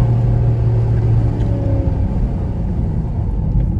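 A tuned car being pushed toward 500 horsepower accelerating hard, heard from inside as a loud, deep engine drone with a steady rumbling pull.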